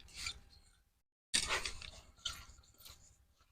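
Leafy greens being mixed by hand with spices, salt and mustard oil in a village kitchen: close, wet squelching and rubbing in short bursts separated by a brief silence.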